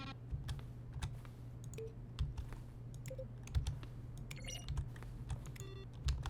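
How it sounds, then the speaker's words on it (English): Button presses in the video game The Stanley Parable, each a keyboard stroke mixed with a synthesized tone, come as a quiet, irregular series of taps and short beeps over a low steady hum. "Selection of the sounds used throughout the game when buttons are pressed. Each sound is a mix of a keyboard stroke and a synthesized tone."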